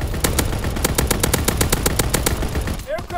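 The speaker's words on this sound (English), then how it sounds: "Anti-aircraft battery in position." An anti-aircraft battery in a video game fires a rapid, loud burst of repeated shots at a steady rhythm for about three seconds, then cuts off abruptly.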